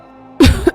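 A woman coughing from smoke in a cartoon scene, one sharp close cough burst followed by a second shorter one after brief quiet.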